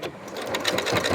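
A sewing machine runs steadily as it stitches down the end of a cork bag strap with a buckle, a close, even mechanical whir lasting about a second.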